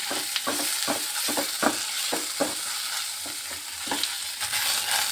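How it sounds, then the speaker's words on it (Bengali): Ash gourd pieces fry in ghee, a steady broadband sizzle broken by repeated scraping stirs of a spoon against the pan, close and fairly loud, with no voices. "এই যে ঘিয়ের মধ্যে আমি চাল কুমড়ো দিয়ে দিচ্ছি। এবার ভালোভাবে এটাকে ভেজে নিচ্ছি।"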